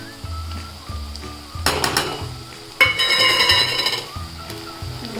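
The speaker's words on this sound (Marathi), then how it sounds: "हे सगळं परतून घेते लाल मिरचीमध्ये कांदा लाल झाला आता हे सगळे मसाले टाकते" Onion, red chilli and spices for misal fry in a pan, a sizzling hiss that swells in two bursts as ingredients are stirred and added, with light clinks of a spoon against the pan, near and without speech.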